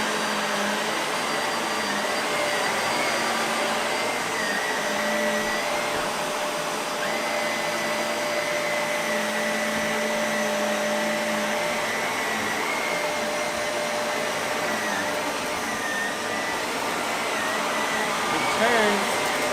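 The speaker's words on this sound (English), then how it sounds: "I've never had a vacuum that turned like that before." A Shark Navigator Lift-Away NV360 upright vacuum cleaner runs continuously with a loud, steady whooshing motor roar and brush noise, close by, with faint talk now and then underneath.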